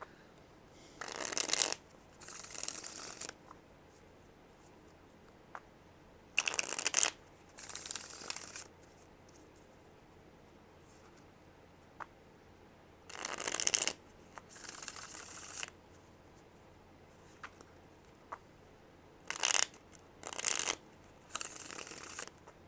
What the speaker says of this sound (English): That needs a bit more shuffling.